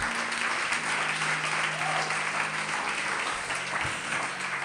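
A church congregation applauds in a steady, close wash of clapping that lasts the whole moment, mixed with faint cheering and a low musical hum beneath.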